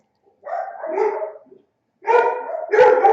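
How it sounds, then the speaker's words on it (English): A dog barks in two bursts near an indoor craft table where a magnetic picture frame is being made, the first a short run of barks and the second a louder, busier volley after a pause. "I can't concentrate when my dog's barking crazy"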